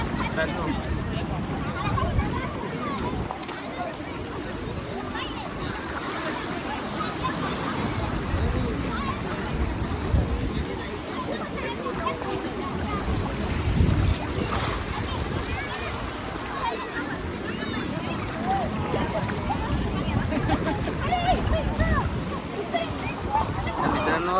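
On a boat out on the ocean, a continuous rush of wind and sea water roars close to the microphone with gusty buffeting and no pauses.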